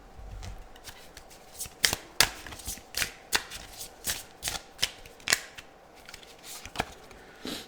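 Nightmare Before Christmas tarot cards are shuffled by hand in a quiet room, giving a series of crisp, sharp riffling snaps and slaps at an uneven rhythm, close and fairly soft.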